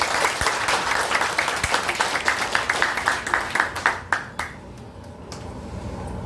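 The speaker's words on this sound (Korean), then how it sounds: "다 함께 지금 박수를 좀 쳐주십시오." An audience at a Dano festival lecture claps together in a dense, steady burst of applause that thins into scattered claps and fades toward the end, with no voices over it.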